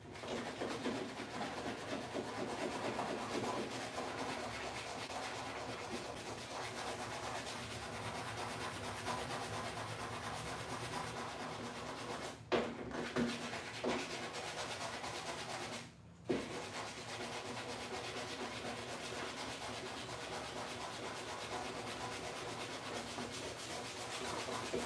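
Continuous 80-grit sanding feathers out a chip on a truck tailgate: a steady, close, abrasive rubbing with two brief pauses and no talk.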